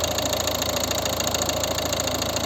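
2012 Volvo V50 with a 1.6 HDi diesel engine idling close up, a steady, even clatter with a fast regular pulse and no talk.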